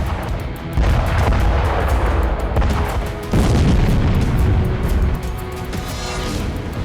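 Thermobaric bomb blasts in Ukraine rumble as loud, deep booms rolling over a continuous roar, with two heavy surges in a dense, sustained wall of sound.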